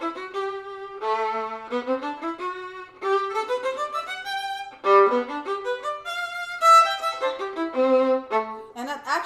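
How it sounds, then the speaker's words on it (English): Solo violin playing Kreutzer Etude No. 4 in a rapid run of detached bowed notes climbing and falling in short phrases, close and clear, with the final note cut short and no talking. "a violinist would play actually 3/4 per measure instead of 4/4"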